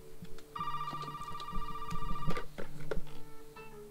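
A telephone rings with a steady electronic ringtone, loud and close, its tone holding for a couple of seconds before breaking into shorter bursts, with no talking.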